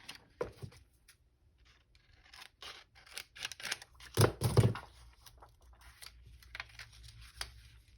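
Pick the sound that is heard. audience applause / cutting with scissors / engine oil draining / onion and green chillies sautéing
cutting with scissors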